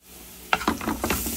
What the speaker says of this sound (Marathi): आणि छानपैकी मिक्स करून घेऊया। मसाला जो आहे सगळा तो परतून घेऊया।